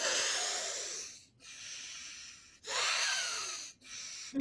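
Slow, deep ujjayi yoga breaths with a constricted, hissing throat sound, several long airy inhales and exhales separated by short pauses, close and clear.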